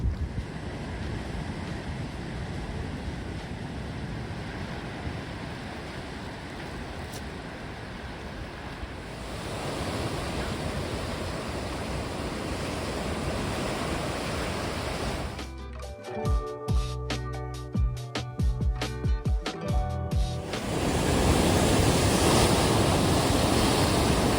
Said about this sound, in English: That was really cool to come out here and see the Atlantic Ocean, hearing the waves crashing on the rocks.